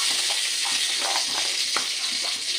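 Radhuni seeds hit hot oil as a tempering for a bitter gourd shukto, giving a loud, steady crackling sizzle with brief sharper pops, close and continuous with no talking.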